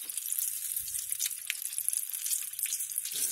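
Battered oyster and green tomato pieces frying in hot oil, a steady close crackling sizzle with brief pops throughout.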